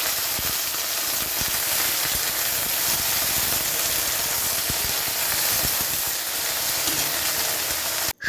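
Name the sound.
okra frying in a pan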